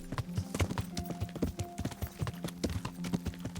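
Rhythmic clip-clop of hooves as a knight's horse rides by on a road in Kingdom Come: Deliverance, steady and fairly close, with a faint tonal hum beneath the hoofbeats.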